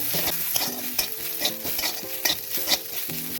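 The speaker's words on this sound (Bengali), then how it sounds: "নিম পাতাটা একটুখানি গ্যাসটা কমিয়ে দিয়েছি, একটু মুড়মুড়ে হওয়া পর্যন্ত ভাজবো" Neem leaves and brinjal stir-frying in oil in a pan over lowered gas heat, with steady sizzling and repeated scraping stirs of a spatula at a regular rhythm, close and continuous, no voices.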